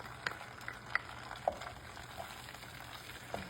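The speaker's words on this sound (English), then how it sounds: "we're gonna let that simmer for just a minute until that garlic becomes fragrant" Three cloves of fresh garlic simmering in a stick of butter in a pan, a soft steady sizzle with a few faint pops and clicks, close and quiet, no talking.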